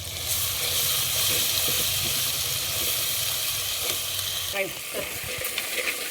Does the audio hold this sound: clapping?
no